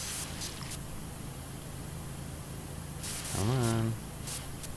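Pressure washer spraying in the PowerWash Simulator video game, a steady broadband hiss running throughout at moderate level, with a brief spoken phrase near the end.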